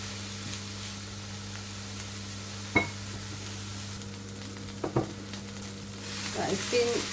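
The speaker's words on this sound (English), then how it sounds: "So it's been about 10 minutes I've been frying my onions" Chopped onions fry in a pan for a meat and potato pie filling, giving a steady close sizzle with a few brief stirring scrapes and taps, and no talking.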